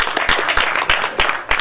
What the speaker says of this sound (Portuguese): quero pedir uma outra salva de palmas